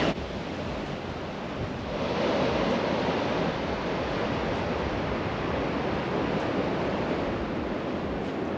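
Steady roar of surf washing onto the beach at Runswick Bay, England, broad and continuous, with a faint wind rush and no voices.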